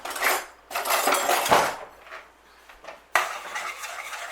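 An oven-proof dish is handled in a home kitchen for cheese cauliflower: several bright clinks and knocks of crockery, one sharp clack near the end, then clattering with short quiet gaps between.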